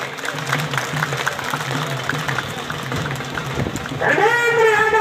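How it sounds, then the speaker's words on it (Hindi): Crowd applause greets a politician at an outdoor rally, a steady wash of clapping at moderate distance, then a loud voice cuts in near the end. "जोरदार तालियों से स्वागत करिए।"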